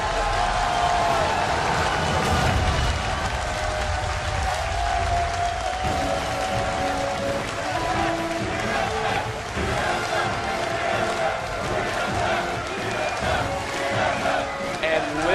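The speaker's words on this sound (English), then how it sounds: "Listen to this crowd." A large crowd roars and cheers continuously in a big arena at a League of Legends esports semifinal, TSM versus Curse, with excited casters talking over the noise throughout.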